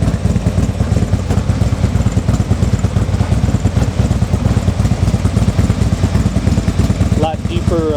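A 2015 Harley Davidson Ultra Limited with upgraded exhaust idling up close, a deep, loud, steady rumble with a fast uneven lope throughout, a faint voice briefly audible near the end.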